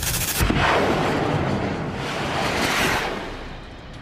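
Gunfire during urban combat among ruined buildings in Khan Yunis, Gaza: a loud, sharp burst at the start, then a heavy, rolling roar that slowly fades.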